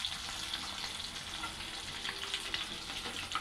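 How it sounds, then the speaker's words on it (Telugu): Fish frying in a small pan of oil gives a steady, dense sizzle with fine crackling pops throughout, close and moderately loud, with no voices. "ఇంకా చూసారండి ఎట్లా ఫ్రై అవుతుందో చక్కగా"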